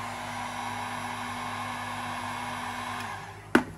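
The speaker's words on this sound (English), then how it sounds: "Just adding heat, softening it up, refolding it back in." A heat gun blows a steady, close hiss of air while softening carbon fiber vinyl wrap on an interior door handle, cutting off near the end with a sharp click.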